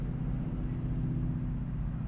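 A single small car passes on a road on a cold evening after an ice storm, a steady low rumbling drone of tyres and engine at moderate distance with no pause.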